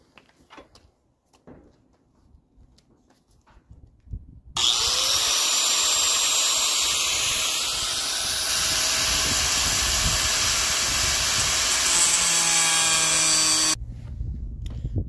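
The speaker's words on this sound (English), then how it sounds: "we cut a piece of sliver right off" A power tool cuts a sliver off a Mercedes M103 throttle body, starting abruptly with a loud, steady, high-pitched grinding whine that holds for about nine seconds, then cuts off sharply, with quiet shop noise before and after.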